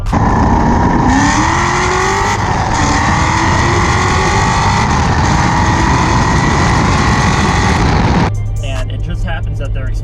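Corvette with a Corsa exhaust system running loud and close, a rough sustained engine roar that rises in pitch as it revs, dropping to a low idle rumble at the end.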